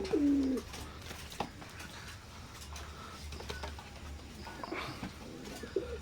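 A Teddy pigeon gives a short low coo at the start, then soft rustling and faint background noise fill the rest, with another brief coo near the end.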